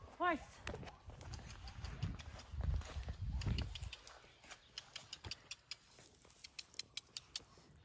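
Horse hooves clop in a steady rhythm, close by, while a person speaks over the first half of the sound.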